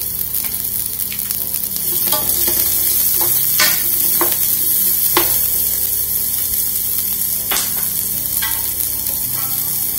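Steady sizzling of onions frying in a generous ladle of hot oil in a pot, a continuous crackle with occasional sharper pops and stirring sounds, close and fairly loud.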